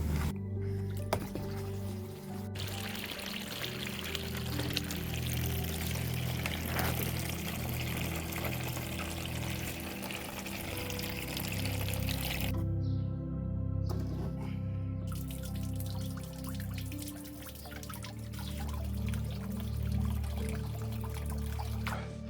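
Water pours into the pond of a bonsai forest with a waterfall, filling it. A continuous splashing trickle runs nearly unbroken, with brief drops in the flow.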